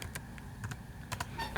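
Quick, light clicks of keys on a computer keyboard come in short irregular bursts, close but quiet.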